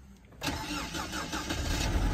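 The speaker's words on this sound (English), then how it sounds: "So let's crank the engine" A BMW E87 118i with the N46 four-cylinder petrol engine cranks briefly then catches and settles into a steady idle, close up and fairly loud.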